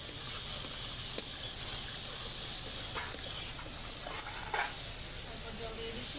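Spices with chili powder and cumin powder sizzling and frying in a pan for a Bengali rohu fish curry with ginger paste, a steady loud hiss with occasional stirring scrapes, and a voice faintly in the background.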